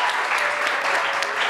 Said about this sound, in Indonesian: Tepuk tangan buat Ari kucing.